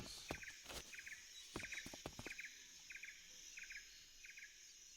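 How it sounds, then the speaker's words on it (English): Repeated bird chirps from Metal Gear Solid 3, short bursts of tweets recurring every half second or so against quiet ambient game sound with faint clicks. "And it's a bird."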